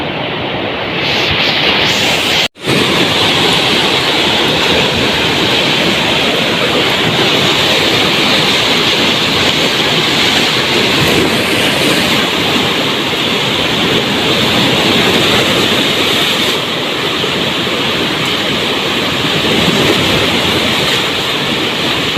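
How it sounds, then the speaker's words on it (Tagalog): Loud, continuous roar of heavy surf whipped up by a typhoon in the Philippines, pounding without pause, with a brief dropout near the start. "Lakas ng alon. Lakas ng alon mga ka-Jumix."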